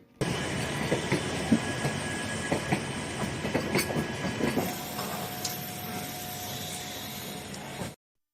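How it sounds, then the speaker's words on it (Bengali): A local AC commuter train running on the Ranaghat–Sealdah line in West Bengal, heard close with rhythmic clickety-clack wheel beats and a steady rumble, a faint tonal whine emerging before it cuts off. "শিয়ালদহ রানাঘাট শাখায় ছুটছে লোকাল এসি ট্রেন"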